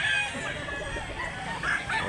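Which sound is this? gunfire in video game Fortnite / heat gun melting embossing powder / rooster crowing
rooster crowing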